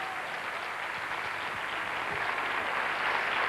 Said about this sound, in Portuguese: uma salva de palmas pelo seu exemplo